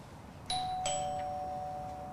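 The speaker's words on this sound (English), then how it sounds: "I'm out here ringing the doorbell." Doorbell rings out with a two-tone ding-dong, two clear chimes half a second apart that ring on and fade slowly, heard at moderate volume over quiet room tone.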